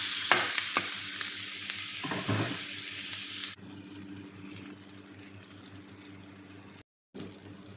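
Onions, tomatoes and bell pepper sauté together in a pan for tuna sambosa, giving a steady close sizzle with stirring scrapes, a louder burst partway through, then a short silent gap before the frying resumes.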